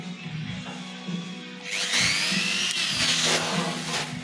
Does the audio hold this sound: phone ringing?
no